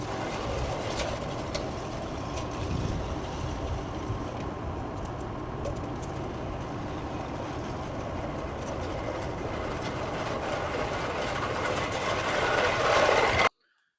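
A lawn mower with its deck raised to a higher cutting height runs continuously nearby, a steady dense engine roar with faint rattling that holds for the whole stretch before cutting off abruptly at the end.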